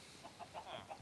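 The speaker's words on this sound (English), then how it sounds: "Ooh, look at all those chickens." Soft, quiet clucking from a flock of chickens in Minecraft, a handful of short separate clucks spaced irregularly across a brief moment.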